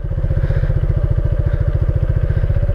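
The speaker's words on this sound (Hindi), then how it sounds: "बाइक को रखते हैं इस तरफ" A motorcycle idles close by on a muddy road while being parked, its engine putting out a loud, steady, rapid thumping pulse for several seconds with no talking.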